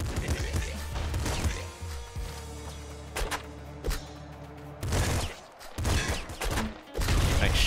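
Gunfire erupts in Nuclear Throne: rapid bursts of shots and impacts crackle over a droning background, broken by brief gaps, then resume loudly near the end.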